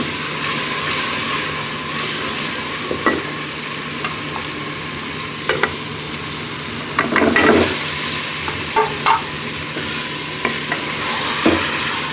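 Chicken being stirred around a hot frying pan with spices, a steady crackling sizzle under scattered scraping and clattering strokes of the spoon, fairly close and with no talking.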